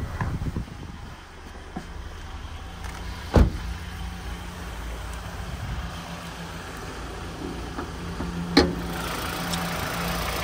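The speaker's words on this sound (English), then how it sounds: "as we listen to it run, there's no major knocks, rattles or squeals, just that motor ticking over nicely" A 2021 Mitsubishi ASX engine idles under the open bonnet, a steady low hum with even ticking over, close by, with a couple of brief sharp knocks and no voices.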